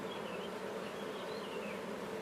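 Honeybees swarm densely over an open beehive, their buzzing forming a steady, continuous drone that stays close and even throughout, with no voices.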